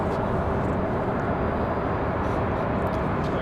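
A PSA Airlines airliner taxis at Raleigh Durham International Airport, its engines giving a steady, loud broadband roar that holds evenly throughout with no break.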